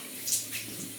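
Tap water running in a bathroom sink while a face is wetted before shaving lather, a brief soft splashing stream with a small burst of spatter.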